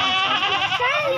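Goats on a goat farm bleat continuously and loudly, several wavering calls overlapping close by.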